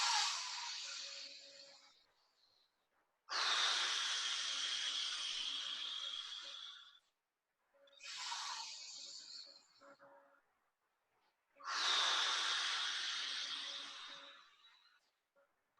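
Slow, deep breaths in a guided stress-relief breathing exercise: three long airy exhalations, each lasting a few seconds, with pauses between. They sound close and soft, and no one speaks over them.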